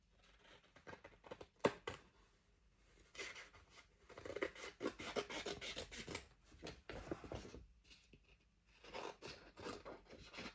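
Scissors cutting paper for a baby photo album, making quiet, rhythmic snipping and rasping strokes in irregular bursts with short pauses between, and no voices.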